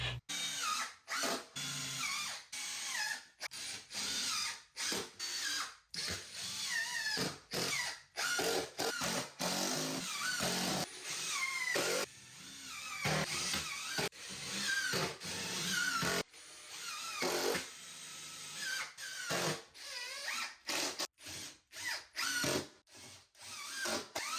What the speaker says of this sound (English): I secured all of those boards with hardy screws.